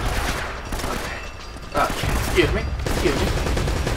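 Steady gunfire crackles throughout a firefight in Uncharted: Drake's Fortune, a dense continuous barrage of shots running under a voice speaking briefly.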